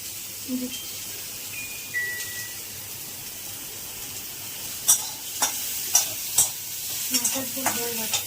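Sour mango curry cooking in a kitchen pan, with a soft sizzle and a spoon scraping and stirring in sharp taps toward the end, over a quiet steady background hum; a few faint voices.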